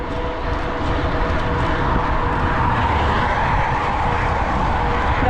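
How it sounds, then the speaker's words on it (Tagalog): Heavy traffic rushing past on a busy road, a continuous loud roar of many vehicles with tire hiss and engine noise, no pauses between passes. "sasakyan dumadaan."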